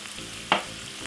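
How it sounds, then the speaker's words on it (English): A single quick scrape of a utensil stirring food in a pan, over a soft background sizzle. "Give it this a quick small stir in the frying pan, just like that."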